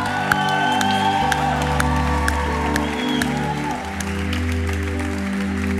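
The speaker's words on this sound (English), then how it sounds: "Let's cheer them as they come." Church congregation at a worship gathering applauds and cheers to welcome people arriving, a steady dense clapping crowd over a sustained organ or keyboard drone, with occasional whoops.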